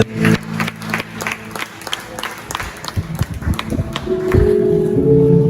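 Scattered claps from a church congregation build into sustained applause, uneven at first and growing denser and louder toward the end.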